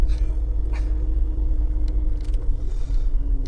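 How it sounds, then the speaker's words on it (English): Constant low road noise from inside a moving car, a steady rumble of tyres and engine with faint scattered clicks and no talking. "Oh, the road noises"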